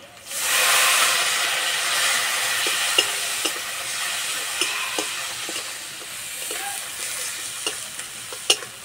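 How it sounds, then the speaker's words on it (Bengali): Ground turmeric and chili spices sizzle in hot oil after a splash of water for an eggplant oil-chili dish, a sudden loud steady hiss rising and continuing throughout, broken by scattered light clicks of a spoon stirring the pan. "অল্প একটু জল দিয়ে মশলা কষিয়ে নেব।"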